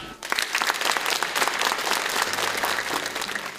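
An audience applauds in a newly built theatre auditorium in Tokaj, a sustained, dense round of clapping that starts abruptly and stays loud and even throughout. No one speaks.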